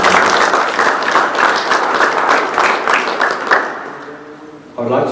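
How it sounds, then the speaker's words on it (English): Full room applause for cricketer Jacques Kallis at the opening of a school's indoor cricket centre, dense clapping that gradually thins out before a voice begins talking. "let's give Jacques a round of applause for this"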